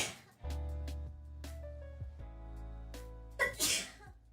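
A single sneeze bursts out sharply and close after some voiced, tonal sounds, followed by a brief rustle; no one speaks.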